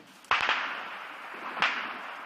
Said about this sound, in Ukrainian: Це ПКМ, це почали починається обстріл наших позицій.